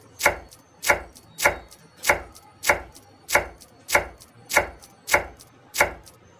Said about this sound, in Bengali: একটি মিডিয়াম সাইজের পেঁয়াজ নিয়েছি পেঁয়াজটাকে আরও কুচিয়ে নেবো